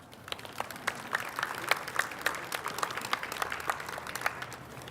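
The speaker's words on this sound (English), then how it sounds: "If we can get another round of applause for them." Audience applause for local and state elected officials at a community gathering, a steady patter of many hands clapping throughout, moderately close and even, with no voices standing out.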